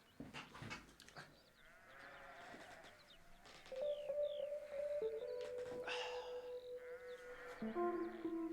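Sheep bleating inside a recording, with several wavering bleats rising over a dense music bed, followed by sustained tones that swell louder toward the end.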